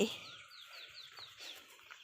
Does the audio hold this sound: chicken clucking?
yes